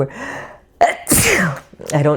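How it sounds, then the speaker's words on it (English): A person sneezes once, a sharp explosive burst after a short inhale, close up, with a bit of speech before and after. "I'm going to sneeze again."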